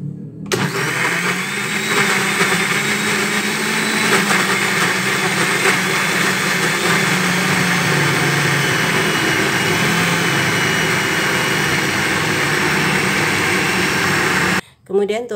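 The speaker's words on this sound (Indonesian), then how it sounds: "Saya akan blender." A kitchen blender whirs as it mixes banana pancake batter of sugar, flour and baking powder, starting abruptly, running at a loud, steady pitch for about fourteen seconds, then briefly cutting out before resuming.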